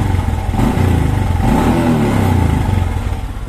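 A Honda Supra X 125 carbureted motorcycle engine revving close by, a loud, steady pulsing idle that swells with throttle and eases back, running throughout.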